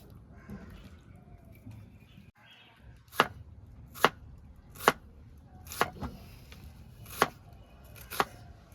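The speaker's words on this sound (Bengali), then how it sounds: "তার জন্য পেঁয়াজগুলো আমি কেটে নিচ্ছি" A knife chops onions on a board in sharp, evenly spaced strokes, about seven crisp hits under a faint background hum.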